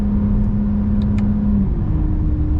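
A Toyota Camry XSE V6 with an 8-speed automatic revs hard in first gear, a close, steady engine drone held high before the pitch shifts and settles slightly lower near the end.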